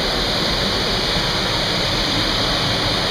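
Waterfall at Swallow Falls State Park in Maryland, falling water roaring in a constant, loud, close wash of noise with no breaks and no voices.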